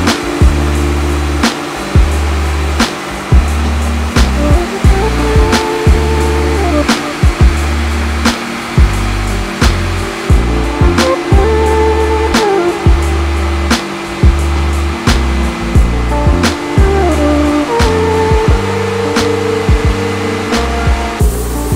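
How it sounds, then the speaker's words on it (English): Steady, loud whine of a vacuum cleaner with a small extension attachment working over a church floor, droning without a break and broken by regular bumps and knocks as the nozzle is pushed back and forth. "So yeah, I'm gonna go ahead and vacuum this."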